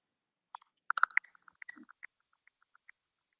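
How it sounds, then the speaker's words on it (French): AI voice assistant running a web search, giving off a soft ticking: a quick cluster of small clicks followed by sparse, evenly spaced faint ticks, close and quiet with no talk. "Quand il y a ce petit tuc tuc tuc tuc tuc tuc, c'est qu'il utilise vraiment le search"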